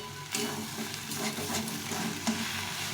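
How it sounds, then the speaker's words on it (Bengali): Bottle gourd with fish head stirs and fries in a pan, giving a steady close sizzle with repeated scraping strokes of a spatula. "ভালো করে নেড়ে নেড়ে এইভাবে কষিয়ে নিতে হবে"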